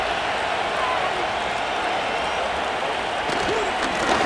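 Stadium crowd noise from a Madden NFL 25 Steelers versus Eagles game, a steady broad roar of cheering that holds evenly through the whole stretch, loud and continuous, with a faint voice surfacing near the end.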